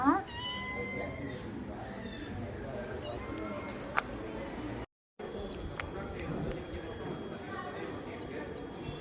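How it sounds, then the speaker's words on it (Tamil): A domestic cat meows a few times in a home setting where a dog is also kept, the calls mixed with background clatter and occasional human voices talking nearby. "என்ன பண்ணுது பூனை?"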